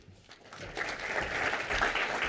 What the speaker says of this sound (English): Welcome with a warm applause.